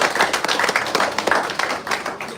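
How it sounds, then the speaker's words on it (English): A brief burst of audience clapping for a champion greyhound trainer at a derby preview night, a crowd applauding in a quick, even patter at moderate volume. "a round of applause, everyone, for the champion trainer"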